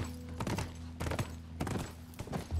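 Horse hooves clip-clop in a steady galloping rhythm while riding in The Last of Us video game, fairly close and moderately loud over a low, sustained background drone.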